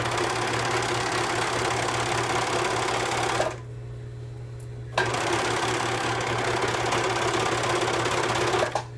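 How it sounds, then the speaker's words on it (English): A serger sewing machine stitches through several fabric layers of a pant skirt with a loud, steady, buzzing whir. It stops for about a second and a half, then runs again at full speed. "Serge through all the layers."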